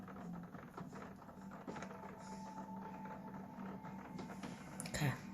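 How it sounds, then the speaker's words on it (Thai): Rain hits a window on an autumn morning, a soft, irregular patter of close taps over a steady low hum, with a few sharper knocks near the end. "ฝนค่ะ ฝนกระทบหน้าต่าง"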